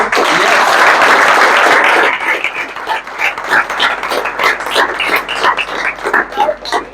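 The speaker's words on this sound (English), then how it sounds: "So, round applause for him" An auditorium crowd at a Janmashtami appreciation ceremony bursts into dense, loud applause that thins after a couple of seconds into scattered, uneven claps.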